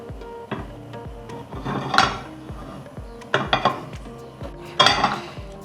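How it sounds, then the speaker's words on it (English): A utensil spreads cooking oil in a pan before stir-frying tofu, with close metallic clinks and scrapes in a few uneven bursts. "let's add the cooking oil. And let's spread."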